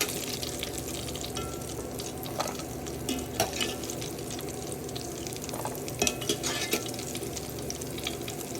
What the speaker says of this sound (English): I'm trying to empty it in my straining bowl.